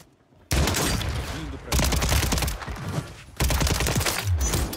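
Automatic gunfire with heavy recoil rattles in the Warzone video game, a weapon from Verdansk firing in three sustained loud bursts separated by short pauses, dense and close.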